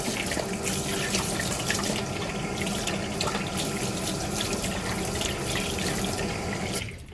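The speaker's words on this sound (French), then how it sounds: "On prend bien soin de laver les mains." Steady running tap water splashing into a sink, as when washing hands, continuous and close for about seven seconds before tapering slightly at the end, with no talking.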